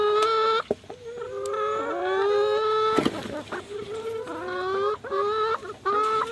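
Several egg-laying hens cluck and squawk close by in a steady, overlapping chatter, with brief louder calls breaking through.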